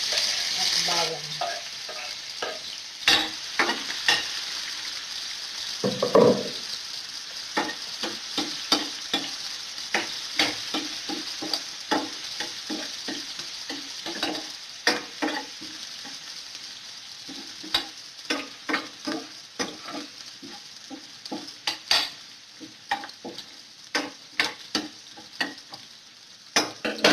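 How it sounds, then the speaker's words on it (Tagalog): Onions and garlic fry in a pan with a steady sizzle, broken by frequent sharp clicks and scrapes of stirring through the whole stretch. "ilagay na natin guys itong lahat ng sibuyas at bawang"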